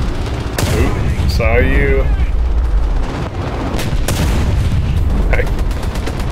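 Rapid cannon fire from a low-tier British tank in War Thunder, sharp booming shots in quick succession at close range, with a player talking briefly over the gunfire.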